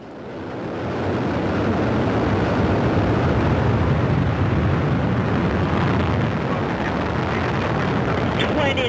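A Soyuz rocket lifts off carrying a crew to the International Space Station, its first stage of four strap-on boosters and a core engine making a loud, continuous roar that swells within a second and holds steady.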